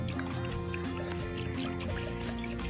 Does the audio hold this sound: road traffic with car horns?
no